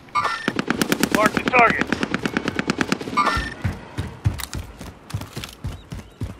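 Automatic gunfire in Call of Duty: Modern Warfare rattles off in a fast, steady burst lasting about three seconds, loud and close, followed by scattered shots and game sounds while a voice speaks briefly over it.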